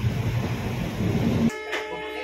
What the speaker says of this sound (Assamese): ট্ৰেইনখন বহুত সময় ৰখাই দিলে